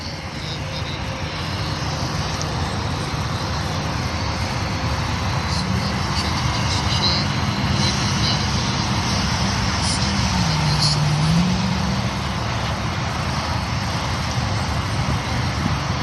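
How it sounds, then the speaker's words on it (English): Freeway traffic streams past at sunrise in Fontana, a loud, steady broadband roar of vehicles that holds without a break, with a brief low engine drone rising near the end. "so you can hear the freeway traffic"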